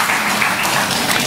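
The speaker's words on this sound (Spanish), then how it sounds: "Pues hay que darle un aplauso a Jesús" A church congregation claps during a Spanish-language sermon, giving a brief, steady wash of applause with no voices heard.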